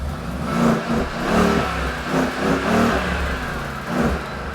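A custom Mercedes G63 SUV engine revs repeatedly, surging and dropping in a rough rhythm, loud and close with a throaty rumble through side exhausts.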